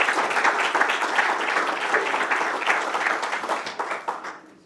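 An audience at a conference applauds speakers as they are introduced, dense steady clapping that fades out abruptly at the end.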